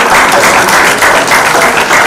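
Loud, sustained applause from an audience at a coffee event with the Mayor of Markham, dense clapping that fills the whole moment without voices on top.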